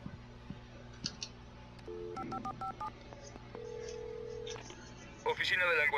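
Electronic telephone keypad tones in the video game Alan Wake beep in quick bursts, then a steady tone, over a low hum and faint background noise, with a voice near the end.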